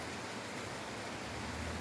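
Steady rain falls across a home garden, a dense, even hiss of drops with no pauses, close and moderately loud.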